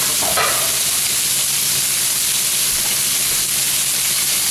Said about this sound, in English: you don't actually cook the meat, we just want to make it tanned up on the outside, so brown it all up, so it's not raw.